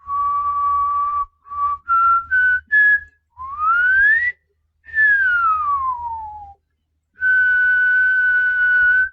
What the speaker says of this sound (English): Let's start with whistling